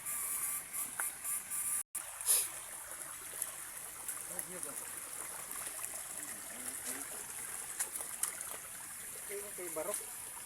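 Shallow water runs steadily over big rocks in a wide mountain river that is nearly dry, a continuous soft rushing and trickling close by, with a brief break and faint voices near the end.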